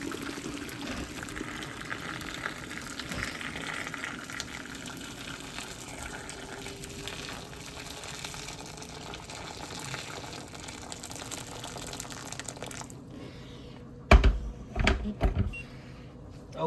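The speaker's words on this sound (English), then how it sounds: "gotta get hot water over them" Hot water gushes steadily for a long stretch, pouring from a tap over tomatoes, then stops, leaving a few clatters and knocks.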